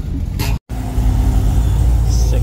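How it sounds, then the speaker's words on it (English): A ZR1 sports car pulling up at a cars and coffee meet: a deep, close engine rumble that briefly cuts out, then resumes as a steady low idle-like drone, with a faint high tone late on. "Quick little ZR1 pulled up."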